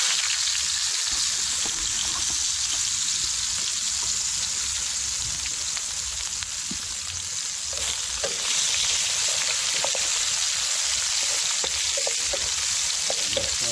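Garlic and carrot fry in a hot pan for a fish sauce, a steady close sizzle with crackles and occasional stirring scrapes throughout, no voices.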